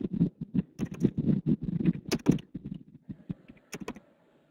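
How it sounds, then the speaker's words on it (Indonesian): Someone types on a computer keyboard, producing quick irregular bursts of key clatter with a few louder strokes, close-miked and heard on its own before trailing off. "Kayaknya dia lagi ngetik-ngetik di keyboardnya itu."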